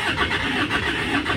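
A 2004 Kia Carens with a D4EA diesel engine cranking and catching, a short loud close burst of engine noise pulsing unevenly with no talk.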